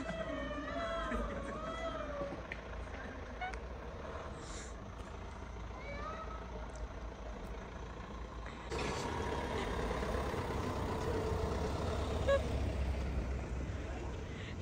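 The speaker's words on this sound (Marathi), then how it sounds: "किती वेळ आवाजवाली गाडी मागेच राहिली आहे" A noisy vehicle engine rumbles behind on a road, a low continuous drone that grows louder and rougher partway through, with faint voices and other traffic sounds around it.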